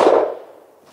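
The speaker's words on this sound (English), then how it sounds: "We are ready to shoot." A single sharp 10mm pistol shot firing a Buffalo Bore Barnes TAC-XP round, a loud close crack that decays quickly over the following second.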